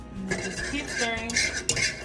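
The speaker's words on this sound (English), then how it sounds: "Keep stirring." A utensil stirs homemade alfredo sauce in a pan, scraping and clinking against the metal in a close, continuous swirl with a sharper knock near the end.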